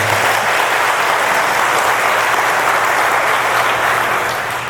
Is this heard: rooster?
no